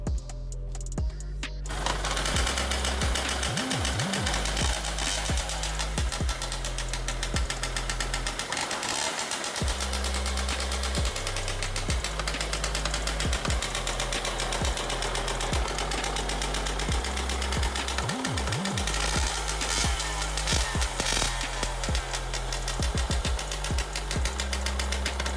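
A Yamaha PW80 dirt bike engine runs during carburetor tuning, a loud, rough, rapid two-stroke putter that continues without a break, with slight shifts in pitch and rhythm as the throttle and choke are adjusted.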